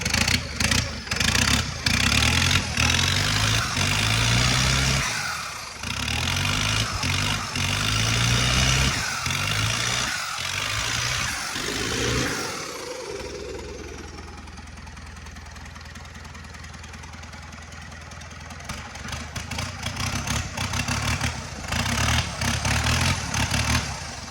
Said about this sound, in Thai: ดี๋ยวผมเร่งเครื่องให้ดูนะครับ